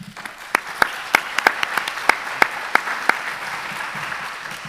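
An audience applauds after a talk at a foundation-sponsored session, a steady wash of many hands clapping with sharper individual claps standing out throughout, no voices.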